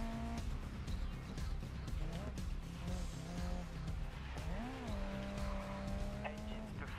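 A race car in Grid Legends roars steadily at high revs, its engine pitch rising and falling through gear shifts with tire squeal and skidding, loud and continuous throughout.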